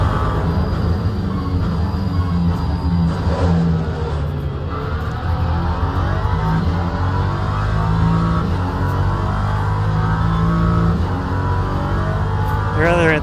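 Engines of LMP3 race cars in a racing video game, a steady loud drone with a constant low harmonic hum throughout, the pack sounding as if far ahead, with a brief rising whine near the end.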